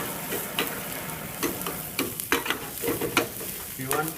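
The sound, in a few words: chopped onions frying and being stirred in pan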